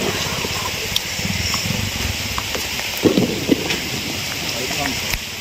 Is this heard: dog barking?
no